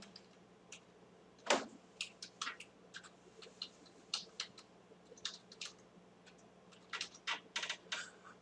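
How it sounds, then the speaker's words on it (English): A command being typed on a computer keyboard: irregular bursts of light key clicks, close but quiet, with one heavier keystroke early on and no voices. "why don't I just type the command?"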